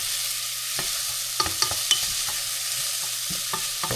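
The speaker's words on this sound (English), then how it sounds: "I start with the onion, get it nicely sauteed and translucent before I add in the garlic." Onion sautéing in a pan on the stove, a steady soft sizzle with occasional light spoon scrapes and clicks, close up and alone.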